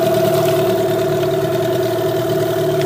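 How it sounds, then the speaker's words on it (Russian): A new Parsun T15BMS 15 hp outboard boat motor running at low revs, about 1000 rpm, while trolling slowly on the water; a loud, close, steady droning hum with no change in pitch and no voices. "пока 8 километров в час максимальная скорость, средняя скорость 4 километра в час, оборотов у нас 1000 оборотов"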